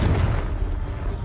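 Confringo blasting spell going off in Hogwarts Legacy: a heavy, booming blast with a rumbling low body, loud and close, sustained through the brief moment.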